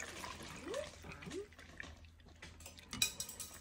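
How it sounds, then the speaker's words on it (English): St. John's wort tincture being strained into a jar, with faint liquid trickling, soft glassy clinks and a sharper clink near the end, quiet and close. "getting ready to strain out the St. John's wort into this here"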